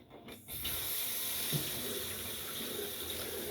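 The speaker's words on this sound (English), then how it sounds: "I'm gonna rinse off and I'll be back with the post." Tap water runs steadily into a bathroom sink as someone rinses off after a shave with a Rex Konsul razor, a close, constant splashing hiss that starts after a brief quieter moment.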